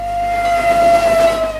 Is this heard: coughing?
no